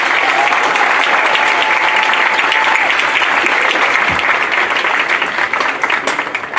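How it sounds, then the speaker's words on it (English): Sustained, loud applause fills a high school graduation ceremony after a chamber choir performance, a broad wash of many clapping hands that holds steady, then thins slightly near the end. "Let's have another round of applause for our chamber choir led by Hannah."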